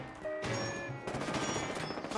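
Two sharp gunshots fired at an enemy in Fallout 4 survival mode, spaced about half a second apart, ring out over a steady bed of game music and ambience.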